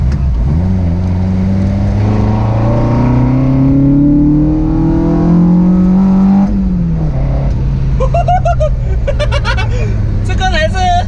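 A naturally aspirated Toyota AE86 with no turbo revs up, its engine note climbing steadily in pitch and then dropping back. People talk close by toward the end.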